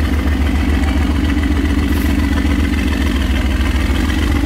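A car engine with an aftermarket exhaust idles in a workshop, a steady, loud, low rumble that holds even throughout with no revving.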